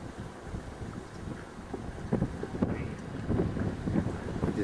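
Steady wind gusting across an open microphone on a warm day in the Australian outback, rumbling low and continuous with a few stronger buffets toward the end, no voices.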